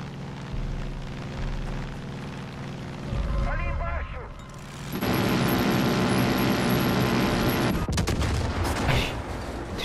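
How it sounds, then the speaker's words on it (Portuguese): A helicopter is shot down in the Far Cry 5 video game, with bursts of gunfire and explosive blasts, then a sudden loud roaring crash. A voice talks over parts of it. "Destruí o helicóptero, mas também morri."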